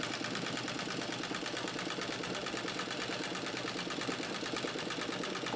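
A White Rotary treadle sewing machine doing free-motion quilting runs with a fast, even mechanical whir and rapid ticking stitch rhythm, close and continuous.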